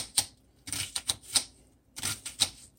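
A knife chopping a sweet Vidalia onion into small squares on a board, sharp close taps in uneven clusters of two or three, no talking.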